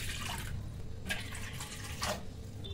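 Water pours steadily into a pot on a stove, a continuous close splashing with a few louder surges, and no talk.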